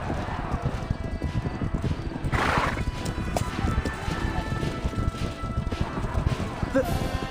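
Horses ridden at speed in the Reverse: 1999 video game, a dense fast clatter of hooves running throughout with a whooshing burst, under spoken dialogue.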